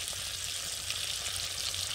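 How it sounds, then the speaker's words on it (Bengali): Rupchanda pomfret pieces coated in salt and turmeric sizzle in hot oil in a small wok, giving a steady, even frying hiss with no talking. "এই যে দেখুন আমি ভাজা বসিয়ে দিয়েছি"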